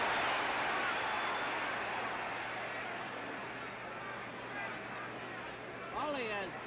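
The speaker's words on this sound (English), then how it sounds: "Folley has brought the crowd up with those punches" A boxing crowd at Madison Square Garden roars for Zora Folley's punches against Muhammad Ali in 1967, a broad, sustained wash of noise under continuous commentary, swelling briefly near the end.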